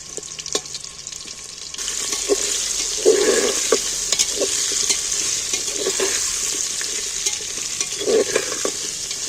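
Potatoes frying in a pan with salt and turmeric, a steady sizzle with occasional stirring scrapes and clinks, close by and moderately loud, with no talking.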